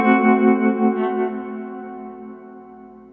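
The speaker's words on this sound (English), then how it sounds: "that wavy sound will be sent through the reverb pedal and the entire thing will be echoed" An electric guitar runs through a tremolo pedal and then a reverb pedal. A rich sustained chord throbs in wavy pulses, then decays slowly into a long, echoing reverb tail, heard alone.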